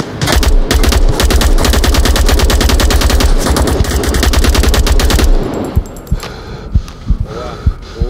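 Loud, rapid bursts of automatic gunfire in the VR shooter Onward fill the first five seconds, followed by a few scattered single shots with quieter gaps.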